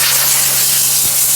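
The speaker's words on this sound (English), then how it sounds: "I'll get the air gun out and just blow it off really good" A compressed-air gun blasts dust off a rear axle during a budget overhaul: a loud, steady, close hiss of rushing air that runs unbroken for the whole moment, with no voices.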